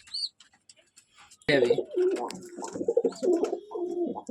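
Pigeons of a breeding pair coo in a bursty run of close, throaty calls after a short quiet start, with faint chirps before.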